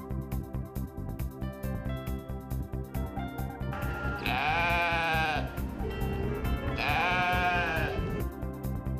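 Two drawn-out goat bleats, each lasting about a second, rise over a steady rhythmic music bed with a clear gap between them.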